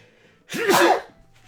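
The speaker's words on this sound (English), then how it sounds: "I'm going to sneeze." A single close sneeze bursts out of near silence, a sharp voiced intake followed by a loud breathy explosion that fades quickly.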